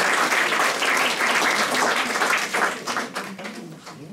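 Sustained audience applause fills the hall at an association's annual general meeting, dense and steady for about three seconds before thinning slightly toward the end, with no talking over it.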